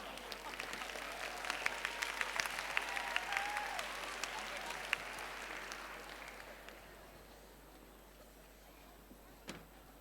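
An audience at a junior debate showcase claps steadily for the next speaker taking the stage, loud for several seconds and then tapering off into a quiet room, with a brief knock near the end.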